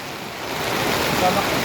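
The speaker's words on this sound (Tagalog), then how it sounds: "lakas ng ulan" A steady, dense roar of heavy rain pouring down continuously on a steel deck roofing job site, loud and close, with no pauses or distinct voices.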